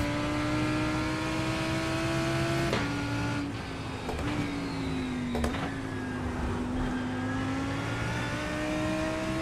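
A GT3 race car engine in the sim racing game iRacing drones steadily and loudly throughout, its pitch dropping briefly with gear changes and then climbing again, with no voices over it.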